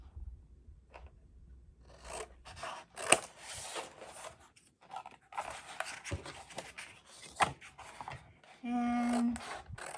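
Scissors snip and rasp through the corner of a Stamperia Brocante mini album cover in short, close cuts with quiet gaps between them, ending in a brief steady hum.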